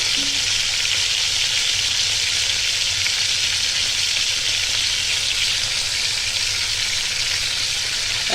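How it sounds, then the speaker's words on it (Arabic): Boiling water hitting sautéed spiced meat in a hot pan, a loud, steady, close sizzle that hisses continuously without pause and with no voices. "بعد ما تشوحيها وتحطي التوابل بتاعتك تحطي عليها الميه اللي بتغلي."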